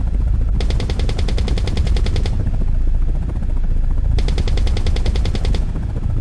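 In a video game, an attack helicopter's rotor drones steadily while its rapid machine-gun bursts rattle in two long strings separated by a pause, loud and close, with no talk.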